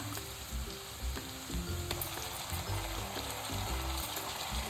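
Ginger-garlic paste frying with onions in a pan, a steady close sizzle running throughout under rhythmic background music, with no talking.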